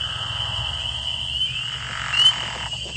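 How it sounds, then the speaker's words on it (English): Spring peepers and pickerel frogs calling together in a Connecticut wetland, a dense, steady chorus of high peeping and trilling with a longer grinding call rising near the end, continuous and moderately close. "That is a spring peeper, and the long trilling one, that's the pickerel frog."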